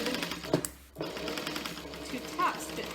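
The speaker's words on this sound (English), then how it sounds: "We're gonna sew right next to that stabilizer, but not on it" A sewing machine stitches a bag next to the stabilizer, running with a rapid, continuous mechanical whir close by. It pauses briefly and then resumes while a person talks over it.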